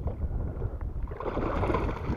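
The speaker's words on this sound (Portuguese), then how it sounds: "O vento tá muito forte aqui." Strong wind blows steadily across open water during a fishing outing from a small boat, a broad continuous rush with low buffeting on the microphone and no voices.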